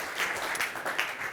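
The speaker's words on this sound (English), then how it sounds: "Give it an applause" Brief, fairly faint applause from a conference audience after a startup pitch, a soft continuous patter of clapping.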